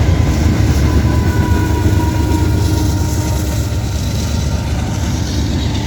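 A 16G mixed freight train with distributed power units rolls past close by in Ohio, a loud continuous rumble of wheels and cars with no talking.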